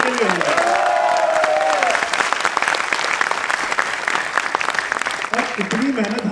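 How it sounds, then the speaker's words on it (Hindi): A large crowd of students claps vigorously at a teachers' meet-up, sustained dense applause with a voice speaking over it at the start and again near the end. "तो जोरदार ताली सचिन सर के लिए होगा।"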